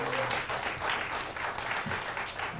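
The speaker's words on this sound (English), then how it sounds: "Y'all give it a round of applause for all your hard work." An audience claps in a round of applause at a Union County commissioner meeting, a dense, even patter of many hands filling the room for a few seconds, with a faint voice briefly underneath.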